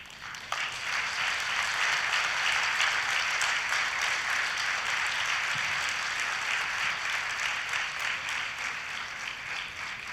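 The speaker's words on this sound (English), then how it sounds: "the applause is not matching that" A large crowd at a wellness event in Pune breaks into sustained applause after a yoga session, dense and loud, continuing evenly for about ten seconds without any talking.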